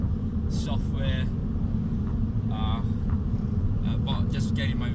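A Mini Cooper S R56 JCW drives along a road with a steady, loud low engine rumble and road noise. Someone talks over it the whole time.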